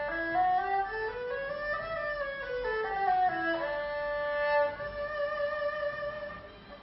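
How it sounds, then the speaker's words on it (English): A solo erhu, the Chinese two-string bowed instrument, plays a mellow, sliding melody with smooth glides between notes and gentle vibrato, fairly quiet and alone without accompaniment or voices. "the erhu actually sounds much more mellower compared to the violin"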